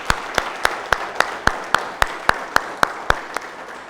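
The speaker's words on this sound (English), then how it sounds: "Can we give him a round of applause?" An audience claps in unison for a commissioner at a formal gathering, about fourteen crisp, evenly spaced claps in a steady rhythm, close and distinct against a quiet room.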